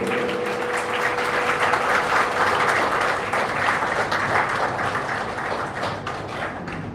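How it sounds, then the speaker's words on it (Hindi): An indoor audience at a Rajyoga spiritual talk claps warmly, a dense sustained round of applause from many hands that holds steady and then tapers slightly toward the end. "बहुत खुशी की ताली बजाएंगे।"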